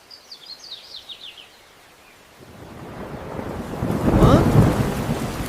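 Thunder rumbles in at a rural farm setting as rain begins, building from faint bird chirps and quiet air into a loud, swelling roar of rain and thunder over the last few seconds.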